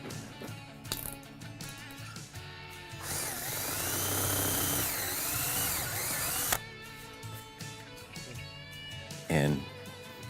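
A power drill enlarges pre-drilled holes for mounting flat track hardware. One sustained, whining burst of about three and a half seconds rises out of quieter handling clatter, with brief knocks before and after.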